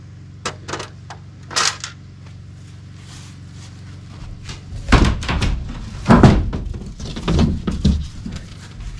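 A shower house wall panel at an off-grid shed cabin is pried and popped loose, giving several sharp knocks and cracking thumps, with a cluster of louder wooden clunks as the panel comes free.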